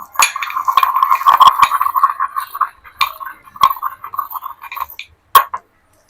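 Ginger and cardamom pounded for tea, a run of quick metallic clinks and taps, close and fairly loud, easing into softer knocks with a few sharp strikes near the end.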